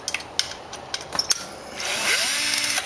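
Power driver working Torx T20 and T25 screws out of a BMW E46 sedan headlight: several sharp clicks and taps, then a rising motor whine for about a second near the end.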